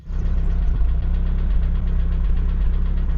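A drift car's engine idles at a circuit in Japan, a loud, steady low rumble with a faint rapid ticking running through it.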